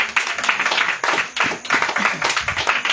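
A church congregation claps in praise of Jesus at a revival gathering in Anyama, Côte d'Ivoire: dense, steady rhythmic hand claps from many people, loud and close, with no talking.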